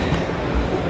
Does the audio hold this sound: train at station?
yes